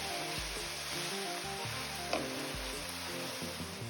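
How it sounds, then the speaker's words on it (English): Mustard greens and onions sizzle and fry in a pot for Eritrean hamli, a steady close hiss with soft scraping stirs and one brief clink partway through. "I'm gonna go ahead and put all of my greens in the pot because they do wilt down significantly."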